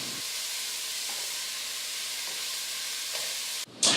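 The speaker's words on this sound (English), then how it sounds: "we're going to add our ground beef back in and just give that a good mix" Ground beef and corn are stirred and mixed in a chili pot, giving a steady, soft hiss of sizzling and stirring throughout. The sound closes with a brief louder scrape.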